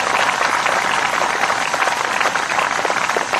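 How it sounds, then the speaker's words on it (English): A concert audience at a municipal band concert applauds in a dense, steady wash of many hands, fairly loud and close, with no break across the few seconds. "Give them all a nice round of applause, would you?"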